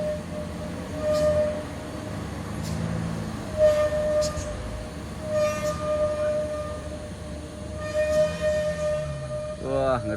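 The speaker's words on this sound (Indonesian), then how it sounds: "Wah, ngeri kali suara remnya teman-teman" Truck brakes on a Canter truck in a convoy descending the Kedabuhan mountain road in Aceh, a sustained high squeal holding steady over rumbling engine noise, with brief bursts and a rising whine near the end.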